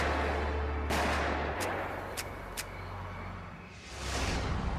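Three pistol shots ring out during a liquor store robbery gunfight, sharp cracks in quick succession over a low rumbling background, followed by a fading whoosh.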